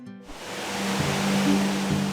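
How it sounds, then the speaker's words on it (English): Spokane Falls, a large urban waterfall in Spokane, Washington, gives a continuous rushing roar of falling water that swells in after a brief quiet start and holds steady, with a low hum underneath. "its roar can be heard throughout Riverfront Park"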